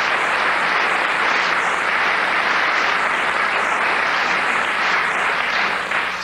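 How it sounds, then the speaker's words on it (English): Studio audience applause on the radio panel game Just A Minute: a loud, sustained, even wash of clapping from a full room, steady for several seconds before easing slightly at the end. "The applause tells us everything."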